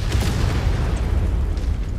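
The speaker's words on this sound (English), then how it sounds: "Oh crap. Artillery." Artillery bombardment in the mech combat game Mechwarrior 5 rumbles as a dense, continuous low roar of explosions, loud and close, with no voices.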